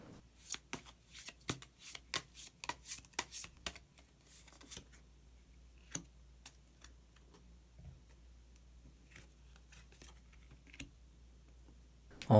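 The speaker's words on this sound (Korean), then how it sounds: "그러면 마지막으로 히든 카드 한 장 더 뽑아보도록 하겠습니다." Tarot cards shuffled and drawn by hand, a quick run of crisp riffling clicks and snaps over the first few seconds, then a few sparse, softer card flicks and taps in a quiet room.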